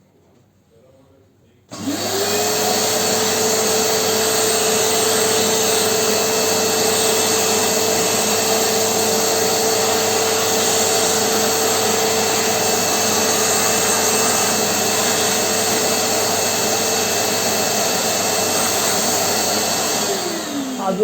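A vacuum cleaner extracts sawdust in a guitar-making workshop after cuts on a homemade bandsaw. It starts abruptly and runs as a loud, steady, continuous roar for about twenty seconds, alone.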